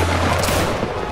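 Volley of gunfire in a video game set on a line-infantry battlefield, a dense, loud burst of overlapping shots packed into about a second, with the crackle carrying on steadily under a faint voice.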